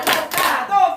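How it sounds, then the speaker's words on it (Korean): A group of children and teachers at a church class claps in brief patterned bursts, two or three short rhythmic volleys, loud and close. "맞았다는 박수로 맞았다. 똑똑해 박수로 똑똑해 나오라는 박수로"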